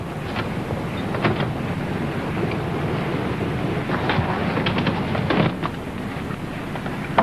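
Wind blows outdoors in a steady, close roar that buffets the microphone with soft gusts and rumbles throughout.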